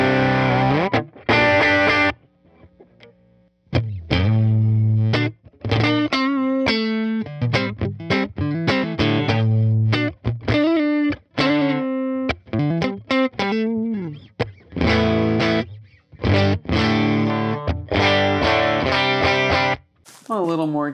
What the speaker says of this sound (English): Here's the Kilt.